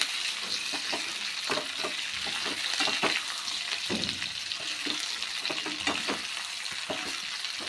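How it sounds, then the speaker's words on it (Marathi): Bitter gourds sizzle and fry in oil over a low gas flame, a steady close crackling hiss broken by occasional stirring scrapes, with no voices. "तेलावरती कारली आहे ना छानपैकी परतून घ्यायची"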